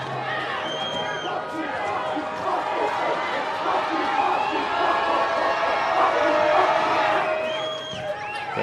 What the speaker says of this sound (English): WT crowd trying to make some noise.